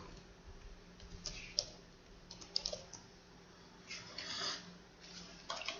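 Typing on a computer keyboard while entering a short description into a new job task template, with scattered key clicks and small bursts of tapping at close range, quiet and without speech.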